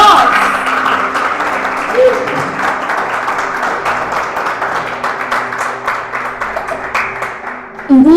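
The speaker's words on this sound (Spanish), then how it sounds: "Dale un aplauso a Dios." Church congregation applauding during a sermon, a dense steady wash of many hands clapping that carries on throughout, with a voice briefly rising above it near the end.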